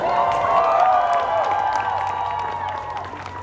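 A convention crowd at a Smallville fan Q&A in Chicago cheers and applauds, a dense, loud wash of voices and clapping that fills the room and fades slightly toward the end.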